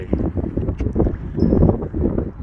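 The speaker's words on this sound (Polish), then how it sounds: "Wiatr trochę szumi" Wind buffets the microphone outdoors in Belgium in a steady, low rumbling roar with gusty swells, loud and close, with no voices.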